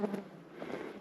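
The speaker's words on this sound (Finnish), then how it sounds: "Pörinä on kovaa. Mä oon ötökkämagneetti." Faint buzzing of flying insects drifting around outdoors at Pirunpesä, Finland, a soft continuous drone with small swells, fairly quiet.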